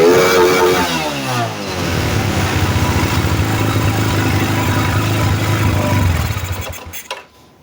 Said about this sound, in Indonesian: Ini coba kita gas.